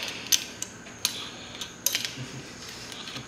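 Bolts are tightened on a tail tidy kit for a CFMoto 450SS motorcycle. A handful of sharp, sparse metallic clicks come from a hand tool, set against a quiet background.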